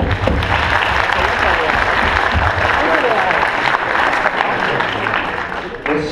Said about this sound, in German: Ich möchte nochmal einen ganz großen Applaus für die Opfer.